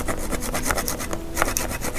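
Hand saw cutting through serut bonsai wood, a rapid rhythmic rasping of back-and-forth strokes, close and steady, with no voices.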